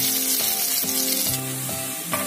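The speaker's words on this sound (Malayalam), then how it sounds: "നമ്മുടെ ഉള്ളി ഇപ്പം നന്നായിട്ട് വറുത്ത് വന്നിട്ടുണ്ട്." Sliced onions fry in oil for Kerala indari appam, giving a constant soft sizzle that lies under steady tonal notes throughout the short moment.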